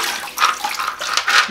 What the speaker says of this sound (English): I'm just gonna swish this around in aquarium water for, you know, a good length of time until it's clean